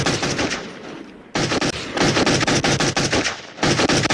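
Rapid gunfire from a video game, aimed at a ghost, comes in loud, dense automatic bursts separated by brief gaps, with the shots closely packed and sustained throughout.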